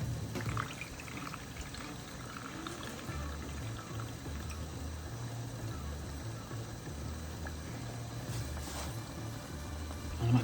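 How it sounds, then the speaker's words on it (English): Nettle-infused water for stinging nettle mead is poured in a continuous, fairly quiet splashing and trickling stream that runs steadily throughout. "I'm actually going to add that water in there because it has changed colour"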